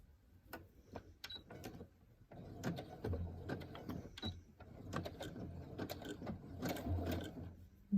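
A sewing machine stitches fabric in short mechanical bursts, its rapid needle clatter starting and stopping with brief pauses between runs, moderately close and alone.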